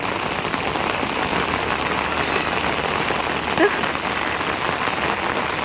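Steady rain pattering across an avocado orchard, a dense, even hiss of drops that fills the whole stretch without pause or talk.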